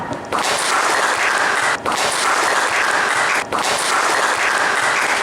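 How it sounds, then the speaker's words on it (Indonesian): Classroom audience claps for presenters at a teacher-training performance test, broad steady applause filling the space, nearly unbroken with two brief dips. "Kita beri tepuk tangan untuk yang sudah presentasi ke depan"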